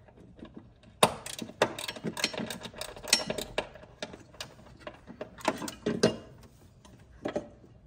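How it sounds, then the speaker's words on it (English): Ratchet clicks from a 40 Torx ratchet backing out a fastener on a C8 Corvette while hatch supports are installed, heard as scattered, fairly close mechanical ticks and short bursts with quiet gaps. "we're going to take our 40 Torx ratchet, and we're gonna move this off."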